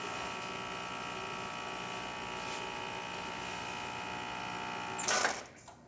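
An Elba espresso machine pump drones steadily as a shot runs through the portafilter, a constant vibrating hum that ends in a brief hiss of depressurising.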